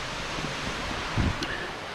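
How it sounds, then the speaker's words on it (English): Water trickling and falling through small canals in rice fields near Ubud, Bali, a soft constant wash with faint wind, quiet and steady, with a brief nearby bump partway through. "you're surrounded by this constant fall of water"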